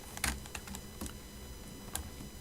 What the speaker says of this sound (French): je vais essayer de jouer au clavier parce que d'habitude je mouse-clic